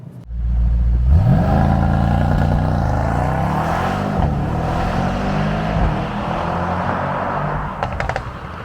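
A 2021 Mercedes-AMG E63s wagon's engine rises and holds a loud, close exhaust roar with the valves open, steady for several seconds before a few sharp crackles near the end.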